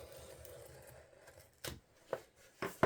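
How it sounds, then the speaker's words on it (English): A knife cuts through the binding of a journal, a few sharp crisp slicing and snapping sounds at irregular intervals over a faint quiet background. "Let me grab my knife here. And I'll cut it out the rest of the way."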